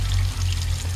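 Water pouring, a dense continuous splashing rush with a strong low hum underneath, loud and close for about a second.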